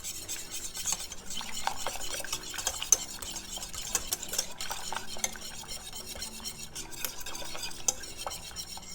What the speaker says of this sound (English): So I'm just stirring to try to